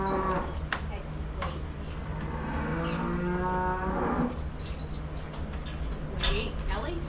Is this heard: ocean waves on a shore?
no